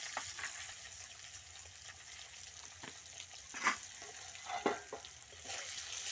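Potatoes frying in a pan with dried chilli and garam masala, a quiet steady sizzle with a few louder stirring scrapes and clatters midway, no talking.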